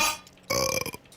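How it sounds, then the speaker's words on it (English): A single loud, close burp of about half a second, voiced and rumbling, on its own after a quiet moment with faint room noise. "stop burping"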